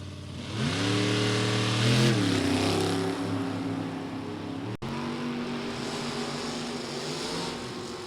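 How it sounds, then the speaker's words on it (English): A 1927 Ford roadster with a Chevy engine, racing in Super Gas eliminations at a drag strip, roars loudly and revs up through rising gear-like tones before holding a steady, powerful engine drone as it passes. "That is a 27 Ford with Chevy power out there in front of the driver."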